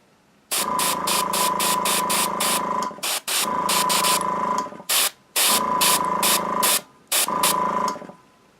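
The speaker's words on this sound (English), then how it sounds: "You notice my spray is pretty fine, and that's with a fairly thick paint" An airbrush sprays fairly thick paint in four close, loud hissing bursts separated by short silent gaps.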